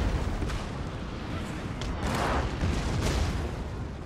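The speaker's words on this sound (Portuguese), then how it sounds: "Mas a gente já vai destruir o general deles aqui com canhão." Cannon artillery in a Napoleon: Total War battle, heavy rumbling booms and distant volleys layered over continuous battlefield noise, with someone talking over the top.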